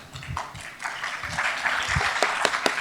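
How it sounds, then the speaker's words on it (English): Audience applause at an awards ceremony with cocktails, a broadband wash of clapping that builds and holds steady, with a few sharper individual claps near the end. "Round of applause."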